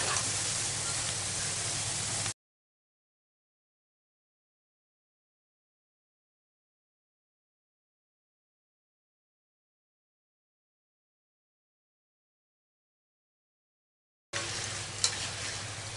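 Potato bhujiya frying in hot oil, with a bright steady sizzle in two short bursts separated by a long stretch of silence.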